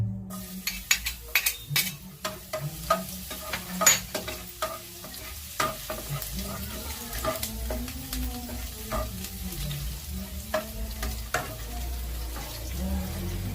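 Garlic frying in a pan, a steady sizzle broken by repeated scraping stirs and spatula clinks against the metal, close and moderately loud, with no talking.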